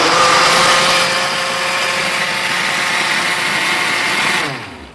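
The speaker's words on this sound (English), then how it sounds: "And that goes right into your blender, and that's the sauce" A kitchen blender runs loud and steady, whirring chicken broth and cilantro into a sauce, a high-pitched motor drone with a churning wash that holds for several seconds and then winds down at the end.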